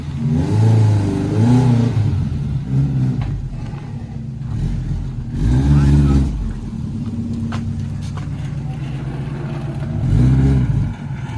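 A Tofaş Şahin car engine rumbles nearby as the car is driven out, revving up in three distinct surges between steadier idling, loud and alone.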